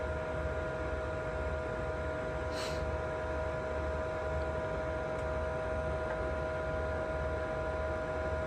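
An electric boot and shoe dryer set to high temperature blows air in a steady, low hum with a faint constant whir, unchanging throughout with no talking.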